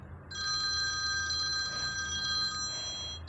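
A telephone rings with a steady high electronic trill that holds continuously for about three seconds at moderate loudness, with a brief dip near the end, over low background hum and no talk.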